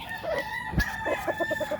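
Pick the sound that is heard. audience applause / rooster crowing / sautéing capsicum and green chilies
rooster crowing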